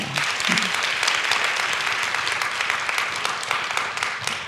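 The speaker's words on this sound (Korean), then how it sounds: "이건 박수를 쳐줘야 돼요" A church congregation applauding during a revival service, with dense, sustained clapping from many hands filling the room at a fairly even level throughout.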